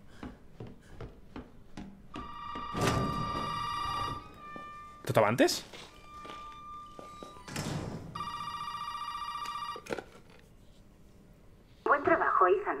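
A telephone rings in Resident Evil 7 gameplay in two long bursts, separated by thuds and clunks, with a person speaking quietly in between.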